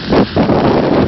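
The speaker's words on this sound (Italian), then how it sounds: "Il vento è forte, è freddo." Strong, cold wind during high water in Chioggia buffets the microphone in loud, continuous gusts with a brief dip, roaring and low without any voices.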